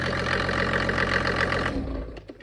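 A Mercedes OM606 3.0-litre diesel engine drives a motor pump, running loud and steady with a constant drone before abruptly cutting off near the end.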